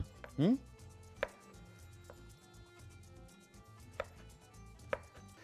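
Garlic is chopped with a knife on a board: a few sharp, separate knocks spread over several seconds, plus one louder clattering thump near the start, in a quiet kitchen.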